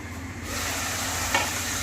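Broccoli and onion stalks fry in oil in a pan while being stirred, giving a steady, even sizzling hiss with no talking.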